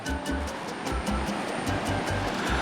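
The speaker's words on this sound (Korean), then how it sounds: "이 물소리가 들리시나요?" Continuous rushing, splashing water noise, steady and fairly loud, a river flowing below a wooded rural plot in Hoengseong, with no voices.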